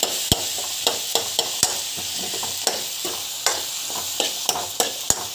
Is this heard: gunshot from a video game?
no